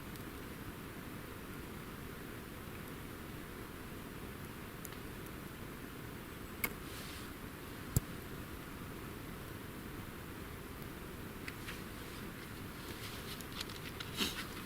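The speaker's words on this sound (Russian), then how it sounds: "Видите, дождь постоянно идет." Steady rain falls in a damp Ural taiga forest of huge spruces, a constant even patter with a few faint scattered ticks and no voices.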